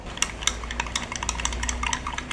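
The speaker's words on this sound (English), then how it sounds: "And now we mix our milk." Milk being stirred for coffee, a spoon or whisk clinking steadily against the container in quick repeated taps, close and alone over a faint low hum.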